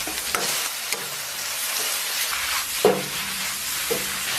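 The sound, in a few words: sliced beef and diced shiitake stir-frying in a wok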